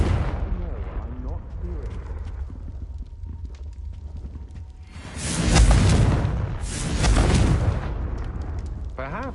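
Fire spell explosions from a Hogwarts Legacy game battle, two deep rumbling blasts swelling in the middle and late part, with spoken spell incantations and game noise around them.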